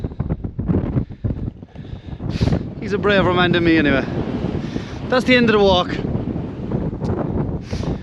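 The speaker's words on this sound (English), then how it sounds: "So it's still very windy." Gusty wind buffets the microphone outdoors on a mountain in County Kerry, Ireland, while someone talks and another voice responds.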